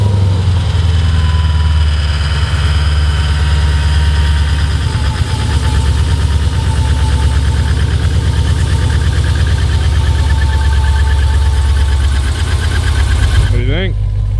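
Jeep Grand Cherokee Trackhawk engine running at a loud, steady idle, a deep, constant rumble throughout that ends abruptly with a brief rising sweep.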